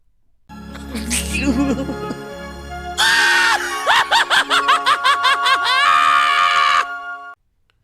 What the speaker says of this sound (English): They gotta stop reusing this scream.